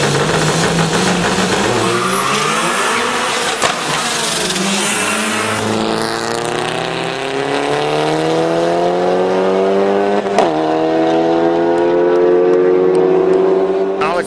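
A Ford Escort and an Opel Corsa racing on a rally stage, loud engines revving up and down through the gears at close range, with a commentator's voice partly over them.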